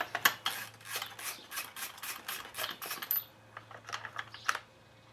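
Socket wrench ratcheting in quick, faint clicking strokes while loosening the old spark plug on an Echo PE 265, followed by a few scattered metallic rubs and taps; quiet and close, with no speech.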